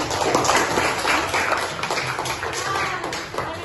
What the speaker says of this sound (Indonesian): Berikan aplaus untuk dengannya